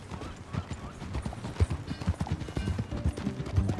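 In the Red Dead Redemption 2 video game, horse hooves clip-clop in a steady, quiet walking rhythm, with faint background noise and no voices.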